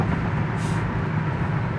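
A 1971 Oldsmobile Cutlass convertible at highway speed as it shifts into third gear, a steady loud low engine and road roar with wind rush, no talking.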